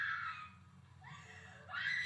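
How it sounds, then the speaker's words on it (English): A woman screams in horror film footage from The Blair Witch Project (1999), shrill cries rising, fading and returning over a low rumbling background, heard at a distance with no clear speech. "She's screaming for Mike."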